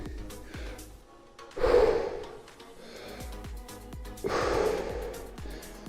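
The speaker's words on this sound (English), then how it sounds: "Big breath down low into the belly." Deep, slow belly breaths during a cool-down stretch in a full-body strength endurance workout, two long audible exhales rising and fading over a soft background, with no one speaking.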